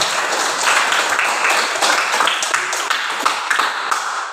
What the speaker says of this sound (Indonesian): Ya, memberikan aplaus dulu pada